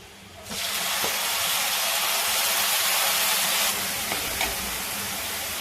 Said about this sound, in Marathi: हे बघा असं छान आपण कांदा परतून घेतलाय